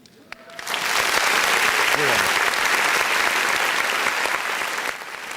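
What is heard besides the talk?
wedding guests applauding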